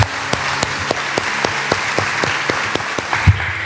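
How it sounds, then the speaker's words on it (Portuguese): Church congregation applauding during a Portuguese-language sermon, a steady wash of clapping with a few sharper, louder claps standing out at regular intervals, with no talking over it. "Aplauda Ele por isso."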